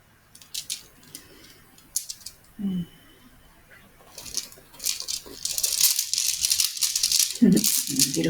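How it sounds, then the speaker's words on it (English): Rose quartz runes rattle and clack together in small loose bursts, sparse at first and growing into a denser, louder jangle near the end. They sound close and alone. "Beautiful sounds, and they are actually rose quartz runes."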